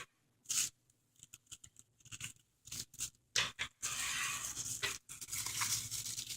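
Scissors snip through a plastic bag being cut into plarn, giving sharp, close crunching cuts in an irregular series, followed by longer rustling plastic scrapes, with no talking.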